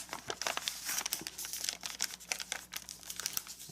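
Soft crinkling and creasing of paper being folded for an origami labyrinth, faint close rustles and small crisp taps in an irregular rhythm with no voices.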